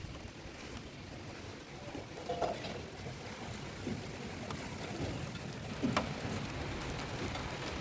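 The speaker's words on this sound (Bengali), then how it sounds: "বৃষ্টি পড়ছে, বৃষ্টি" Light rain falls in a steady, faint patter outdoors, with a few soft, slightly louder drops or knocks standing out now and then.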